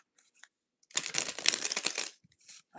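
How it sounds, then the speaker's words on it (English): Tarot cards are shuffled close by in a single riffle lasting about a second, a dense burst of crisp flutter and slaps, with a few faint taps and card handling before and after. "One more shuffle here."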